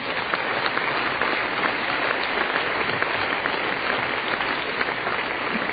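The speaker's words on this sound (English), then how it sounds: "Clap your hands." Hands clap steadily in a church congregation during a sermon, a loud, continuous mass of clapping with a muffled, band-limited quality that carries on without pause.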